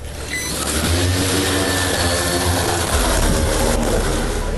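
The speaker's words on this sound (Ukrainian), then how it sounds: "Ти бачиш, е, це так перевіряється, чи робочі двигуни." Electric motors of an attack drone spun up for a test run, a loud close whine and roar swelling and holding steady, with no talking over it.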